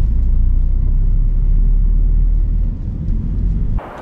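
A 1995 Nissan 200SX S14 Zenki in original condition pulls hard at full throttle through second and third gear with a loud, deep, steady engine rumble that drops off sharply near the end.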